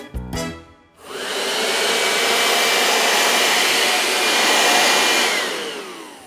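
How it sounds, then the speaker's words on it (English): Steady, loud whooshing drone of a vacuum cleaner running continuously for several seconds after a brief burst of other sound at the start, with no talking over it. "The first noise is a vacuum cleaner."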